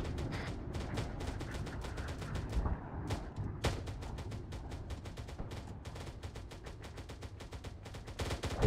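Halo gunfire rattles in rapid, evenly spaced bursts of sharp shots, near and fairly loud, with brief gaps between volleys and no one talking.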